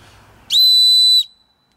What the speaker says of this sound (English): Pretty loud little whistle.